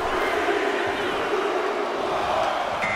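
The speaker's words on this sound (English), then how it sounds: "Listen to this crowd." Arena crowd in WWE 2K24 during a Royal Rumble match: a dense, steady roar of cheering spectators filling the space, continuous and moderately loud with no break.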